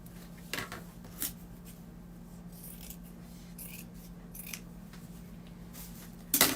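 Scissors snip through paper in a few sharp, close cuts spaced apart over a low steady hum, with a louder burst of rustling at the end.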